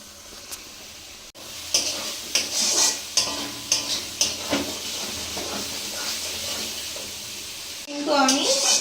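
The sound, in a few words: stirring and frying spice paste (masala) for duck curry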